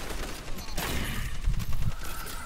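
Gunfire in the sci-fi shooter Destiny 2 comes in a dense, close volley of shots and impacts lasting a couple of seconds.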